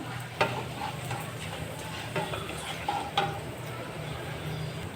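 Onions and green chillies fry gently in a pan with the tempering spices, a soft continuous sizzle broken by a few sharp clinks and scrapes of stirring, close and fairly quiet.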